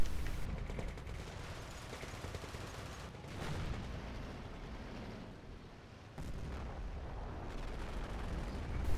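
Dense, continuous battle noise from a tank video game, with a mortar hit and rolling gunfire and explosions filling the whole stretch, dipping briefly around the middle before surging back, no talking.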